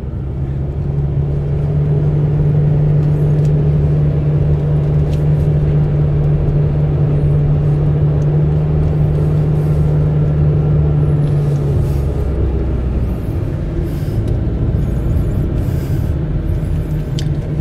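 A car engine rumbles steadily and loudly as the vehicle drives up toward the parking lot at a Crimean military-history festival, a low continuous drone with a shift in tone partway through.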